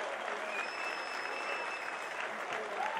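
Steady applause from an audience at an MMA gala, greeting an introduced Olympic silver medalist, continuous and dense for the full stretch with no gaps.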